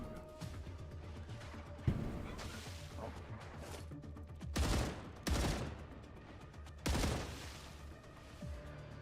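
Gunfire in the StarRupture video game during a playtest, several loud bursts striking close by in separate volleys, with steady game ambience filling the gaps between them.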